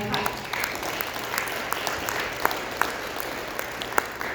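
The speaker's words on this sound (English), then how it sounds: "I would really like to give the right-of-way team a round of applause" An audience at a regional staff stand-up meeting applauds the right-of-way team, a steady spread of clapping lasting several seconds at moderate level, with scattered sharper claps standing out from the crowd.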